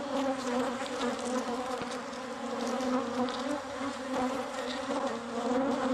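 A colony of bees hidden inside a house wall hums in a dense, steady buzz that holds at even loudness throughout, close and continuous with no voices over it.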